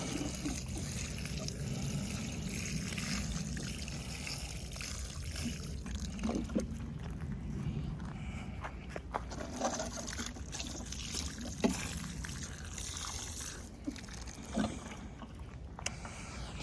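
Water trickling and splashing from a watering can onto soil around a blackberry plant outdoors, a steady low wash with small spatters, fairly close, no talking.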